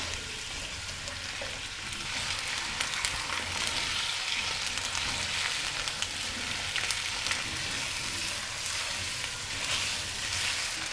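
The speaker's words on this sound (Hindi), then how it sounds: "आलूओं को हमने 1 मिनट तक सौते किया है" Thinly sliced round potatoes sauté in oil over a medium flame, giving a steady, close sizzle with small crackles and pops throughout, with no voices.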